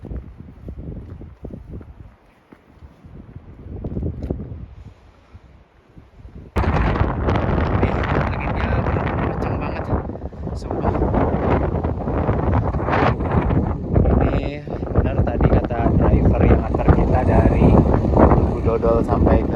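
Strong gusts batter the microphone on Mount Papandayan under an overcast sky, a quieter rumble at first, then a loud, continuous roaring buffet.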